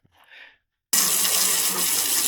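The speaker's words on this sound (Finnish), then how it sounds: "kun laittaa ton hanan avaan, niin silloin tulee vesi tähän" A tap at a cottage is opened and water gushes out in a loud, steady stream after a short quiet moment and a faint earlier trickle.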